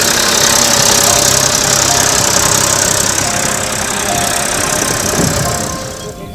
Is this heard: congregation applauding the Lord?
no